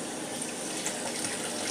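Whiskey stones being washed with soap under a running tap, a steady close splash and hiss of water flowing without a break.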